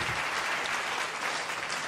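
Dense, continuous applause from a crowd at a political rally, steady and fairly loud throughout with no break and no clear voices over it.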